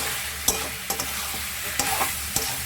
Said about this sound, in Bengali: দিয়ে আমি আবার নাড়বো